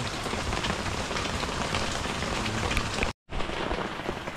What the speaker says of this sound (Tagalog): Maaraw na umuulan.